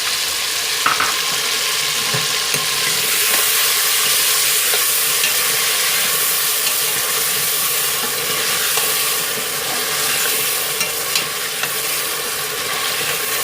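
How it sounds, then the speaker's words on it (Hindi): Ginger, garlic and green chili paste fries in hot oil for a Sindhi spinach dish, giving a steady, close sizzle with faint stirring scrapes throughout and no talking. "अब इसमें ये पेस्ट डालेंगे अदरक लहसुन और हरी मिर्च का और इसको भूनेंगे"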